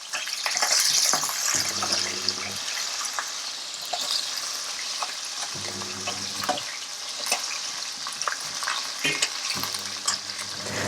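Garlic, shallots and green chillies fry in oil for a hotel-style tamarind curry, a continuous close sizzle with repeated stirring and scraping strokes throughout, no talk.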